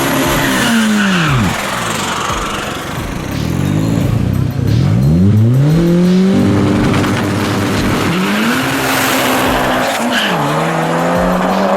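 A Volkswagen Beetle with anti-lag races an Audi RS3 in an underground drag event, loud engines revving hard through repeated rising gear sweeps, with tyre squeal and popping anti-lag bursts close by.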